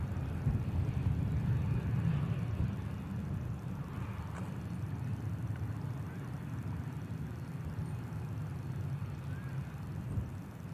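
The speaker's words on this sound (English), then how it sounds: "This is a Pilatus PC-24." A Pilatus PC-24 executive jet at Manchester Airport gives a steady low engine roar, distant and continuous, with no voices over it.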